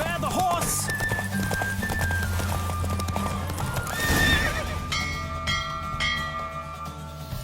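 In the video game The Witcher 3, hooves clip-clop steadily at a gallop while a horse neighs and whinnies, with bright bell-like tones ringing over the busy, game-like soundscape.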